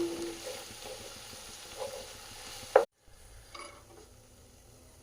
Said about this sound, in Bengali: এবার ভালো করে ফ্রাই করছি।